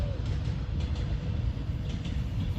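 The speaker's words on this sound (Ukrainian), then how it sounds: "їде потяг. Зараз. Товарняк, напевно, бо не зупиняється." A freight train passing nearby without stopping, heard outdoors in countryside fields: a continuous low rumble with rolling wheel noise and faint rhythmic clatter, steady and moderately loud throughout.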